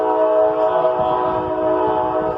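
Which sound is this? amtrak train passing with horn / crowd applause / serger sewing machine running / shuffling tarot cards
amtrak train passing with horn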